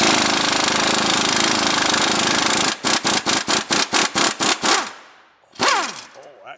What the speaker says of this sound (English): Probably could do this with an impact.